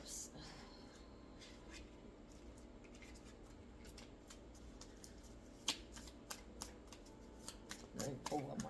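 Tarot cards being shuffled and pulled, with a steady papery riffle and scattered sharp card snaps and flicks, close and fairly quiet, under faint room noise and a voice at the end.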